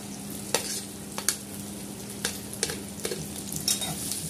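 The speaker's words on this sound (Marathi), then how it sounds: "तेल गरम झाला की आपण जे हे भेंडीची कट करून घेतलेली आहेत यातले थोडे थोडे भेंडे या तेलात आपल्याला टाकायचे" Cut okra pieces frying in hot oil, a constant close sizzle punctuated by sharp stirring clatters and scrapes at irregular intervals.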